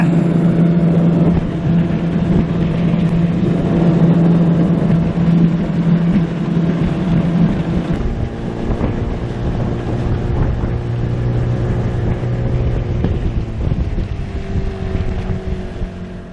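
A 15-horsepower Seatan outboard motor on an 11-foot flat-bottom aluminum boat, being run in, roars continuously at high speed, droning loudly up close with wind buffeting the microphone and slight shifts in engine pitch.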